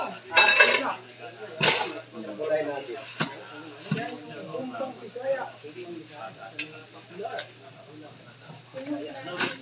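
Dishes and a pitcher being washed, with close clinks and clatters of pots, plates and cutlery in irregular bursts, mixed with ongoing conversation.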